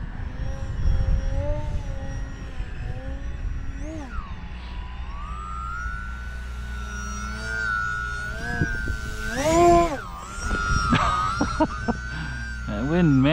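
A Bayer 39-inch Edge 540T model airplane flies outdoors in the wind, its motor whine sustained and shifting in pitch as it passes and maneuvers, with someone talking over it.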